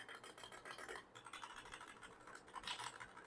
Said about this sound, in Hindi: ये है कीक्रोन का K2 V2 कीबोर्ड। अगर मैं इसके साउंड की अगर आपको बात बताऊँ,